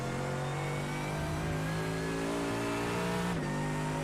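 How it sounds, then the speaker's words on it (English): A Mercedes GT3 race car's V8 engine drones steadily with a high transmission whine in a racing video game at Daytona, loud and continuous, with a brief dip in pitch near the end. "They updated the transmission whine noise for this car."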